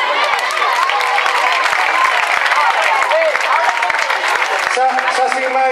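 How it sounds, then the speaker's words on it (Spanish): Loud, sustained applause from a crowd celebrating the Gondomar C.F. players' promotion, dense clapping throughout with voices mixed in near the end. "Un gran aplauso para todos ellos."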